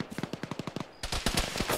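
A BRDM's heavy gun fires in a military video game, a rapid rhythmic string of distinct shots followed by a denser, louder clatter of overlapping gunfire.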